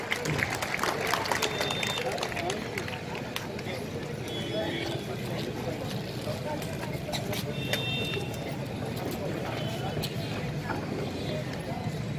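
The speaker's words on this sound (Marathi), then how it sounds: "जोरदार टाळ्या" Loud, sustained applause fills a Congress workers' and farmers' dialogue gathering in Lonand, a dense crowd clatter running steadily throughout with voices mixed in.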